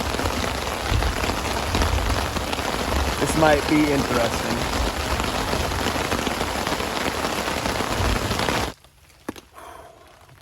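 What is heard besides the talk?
heavy rainstorm with thunder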